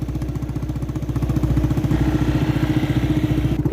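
A motorcycle engine runs steadily as it is ridden along, a loud close mid-pitched chugging with an even pulsing beat that builds slightly louder partway through, with no one talking over it.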